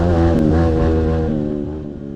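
A kart or dirt bike engine held at full throttle along a straight, giving a loud, steady, close-up droning roar rich in harmonics that holds pitch for about two seconds and only eases slightly at the end.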